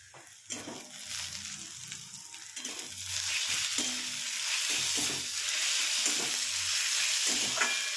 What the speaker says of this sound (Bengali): পেঁয়াজও ভাজা হয়ে গেছে, এর থেকে বেশি ভাজবো না।